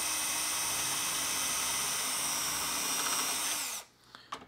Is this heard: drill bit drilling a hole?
yes